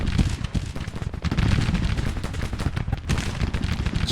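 Artillery bombardment and massed gunfire in the Civil War strategy game Grand Tactician, a dense continuous roar of overlapping cannon booms and musket crackle, loud and unbroken.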